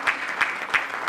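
An audience at a Hindi poetry recital (kavi sammelan) claps briefly, with a few distinct, evenly spaced claps over a soft background of applause.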